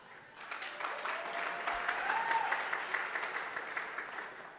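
Applause from the audience at a Folk Alliance live-streamed event in Canada swells from quiet into a sustained, even wash of many clapping hands, fairly distant and moderate in level.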